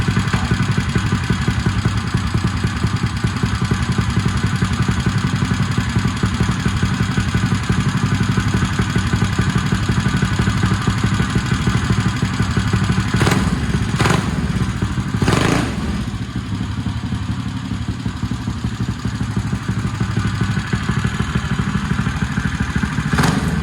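Small CycleKart engine running steadily, a continuous loud close chugging drone with a few sharp knocks midway and a slight drop in level afterward, no talking.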